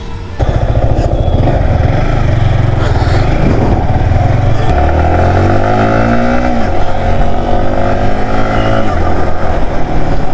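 A motorcycle engine on a test ride revs loudly and close, its buzzing note climbing sharply through several rising sweeps before easing into a steady running drone.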